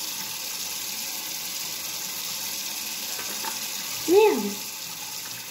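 Water runs from a tap during washing in a steady, soft hiss, with a short splash near the end and a brief spoken exclamation.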